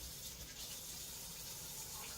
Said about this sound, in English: Let me wash my hands off real quick